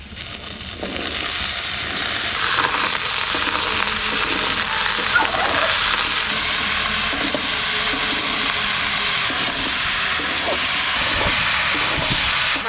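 Fresh white winter radish is tossed into a pan of potatoes frying with turmeric and salt, giving a steady, close sizzling hiss that holds evenly throughout with light stirring clatter.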